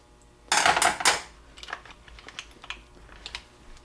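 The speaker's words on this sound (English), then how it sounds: "Take a screwdriver, throttle it up, put the screwdriver in there and just give it a pop." A screwdriver pops the throttle cable off a Stihl 025 chainsaw: a few sharp, close metallic clicks and snaps in a quick burst, followed by lighter scattered ticks and rattles of handling.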